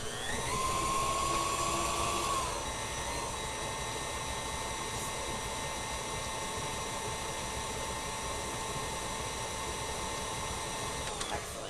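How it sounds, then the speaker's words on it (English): A KitchenAid stand mixer blends Christmas cookie dough with vanilla, running as a steady, high-pitched motor whine that shifts pitch early on and then drones evenly throughout. "So a little bit of noise while I blend this together real quick."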